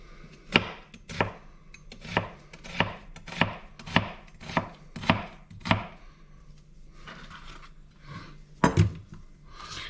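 Onions chopped with a knife on a board: a steady run of about a dozen sharp, close thunks at roughly even intervals, then a pause and a couple of final chops, with no talking.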